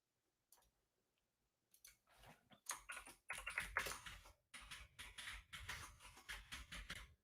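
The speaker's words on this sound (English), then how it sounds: "I'm typing this in." Quiet typing on a computer keyboard, a few isolated taps at first, then a steady busy patter of keystrokes.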